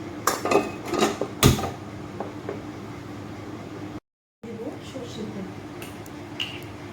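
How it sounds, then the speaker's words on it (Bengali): A non-stick wok is set on a kitchen stove with a few quick metallic clanks and knocks near the start, followed by a quiet steady background hum. "এখানে আমি একটা ননস্টিক কড়াই বসিয়ে দিয়েছি"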